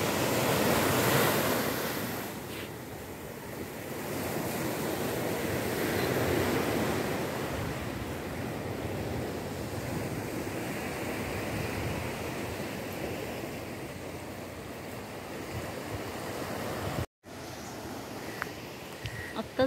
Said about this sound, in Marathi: आणि हा सुंदरसा असा जंगलाच्या बाजूला बीच.